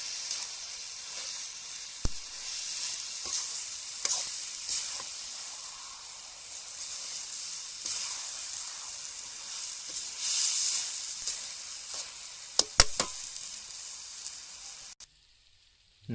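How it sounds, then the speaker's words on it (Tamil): Washed chicken pieces sizzle steadily with garlic in a hot pan, a broad continuous hiss broken by a few sharp clicks of stirring near the end before the sound cuts off. "வாஷ் பண்ண சிக்கனை பார்த்தீங்கன்னா இப்போ ஆட் பண்ணி நல்லா மிக்ஸ் பண்ணி விடணும்"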